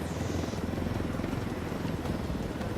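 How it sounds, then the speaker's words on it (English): A Black Hawk helicopter flown through a canyon in the video game Ghost Recon Wildlands, producing a continuous, loud rotor and engine roar with dense broadband rumble throughout. "I have to fly a fucking Fat Hawk through a canyon because everything is covered with AA."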